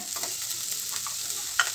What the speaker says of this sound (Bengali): এইভাবে ধিমি আঁচে নাড়াতে হবে যাতে পোড়া না লেগে যায়